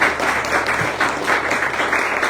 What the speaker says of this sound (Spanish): le damos fuertes palmas a nuestro Dios